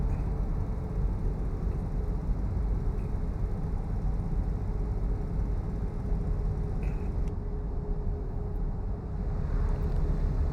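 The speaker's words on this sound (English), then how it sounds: "That's quite a smooth engine," Smooth-running boat engine, a steady low continuous drone with a faint high whine, even and unbroken throughout with no talk.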